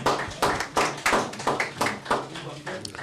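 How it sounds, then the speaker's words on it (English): Applause at a Kaizer Chiefs new-player unveiling as defender Daniel Cardoso is introduced: a small group claps close by in a loose, fairly regular rhythm of sharp, distinct claps, with someone talking over it. "A round of applause, ladies and gentlemen."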